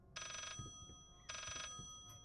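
Two bursts of a shrill electronic telephone ring sound in the Layer of Fear horror video game, evenly spaced and fairly quiet, with soft thuds between them.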